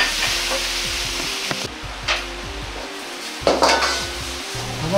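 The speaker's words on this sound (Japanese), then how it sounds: "最後に強火で炒め合わせれば、" Chinese-style German potatoes stir-fried over high heat in a pan, a loud steady sizzle with repeated scraping and clatter of a utensil against the pan throughout.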